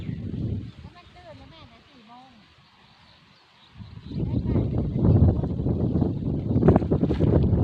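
Wind gusting across an open field where peanuts are being planted, rumbling loudly against the microphone for the first half second, easing off, then surging back strongly from about four seconds on as a steady outdoor roar, with voices talking faintly.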